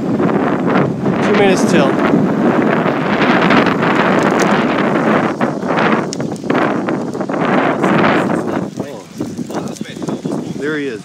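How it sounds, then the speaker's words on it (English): Strong outdoor wind buffets the microphone with a steady roar before a bike ride, while people talk over it throughout. "Pretty windy today, might be expecting some rain."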